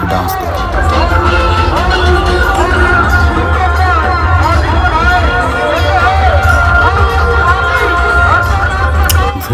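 Large crowd at the Sarhul festival procession on a main road in Ranchi, a loud dense roar of babble and movement all the way through, with voices talking up close.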